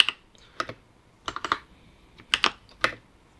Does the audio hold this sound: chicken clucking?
no